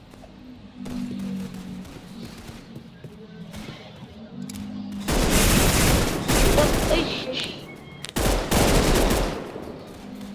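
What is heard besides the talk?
gunfire in Roblox video game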